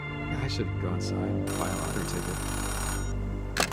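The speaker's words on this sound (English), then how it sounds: "Payphone ringing in the wild?" A payphone rings in the video game Oxenfree 2, a steady electronic trill that runs under a voice talking over it, close and fairly loud throughout.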